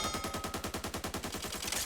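Rapid full-auto bursts from a UMP submachine gun in the Back 4 Blood video game, a steady stream of close, loud shots at an even rhythm with no talk.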